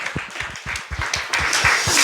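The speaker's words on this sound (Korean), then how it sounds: "이 밤에 역사하실 주님께 영광의 박수 올려드리겠습니다" A congregation at an evening church revival service claps together, a quick run of sharp hand claps that thickens into fuller applause toward the end.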